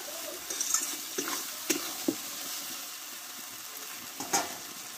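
Spiced masala for a Bengali-style chicken curry sizzles and fries in a pan, a steady close hiss broken by a few scraping stirs and soft knocks of the spoon.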